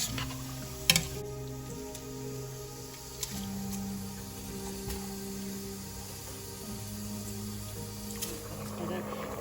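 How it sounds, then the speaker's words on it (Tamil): Chicken gravy boils and bubbles in a pan, a steady close simmering hiss with soft bubbling under a continuous background hum, with a few sharp clinks early on. "இது நல்லா கொதிக்குது."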